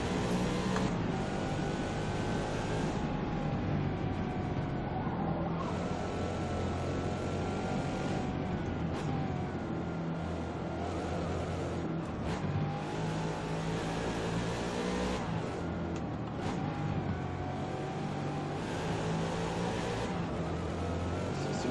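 Ford Mustang GT500 racing in Forza Motorsport on the Nordschleife, its engine a loud continuous drone that rises and falls through gear changes, with sharp shifts and revs recurring over about twenty seconds.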